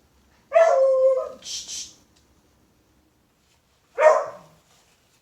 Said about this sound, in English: And every once in a while you'll hear my dogs.